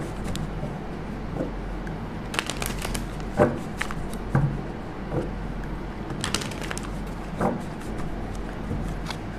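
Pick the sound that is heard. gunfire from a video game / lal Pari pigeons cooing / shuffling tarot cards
shuffling tarot cards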